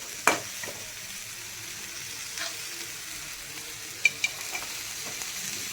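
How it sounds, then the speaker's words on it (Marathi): Onion and coconut frying in oil in a pan, a faint steady sizzle with a few sharp clicks of a utensil stirring, quiet and close, with no talking. "आता कांदा आपला असा भाजलेला आहे. आता त्यामध्येच ना आपण खोबरं पण टाकून घेऊयात."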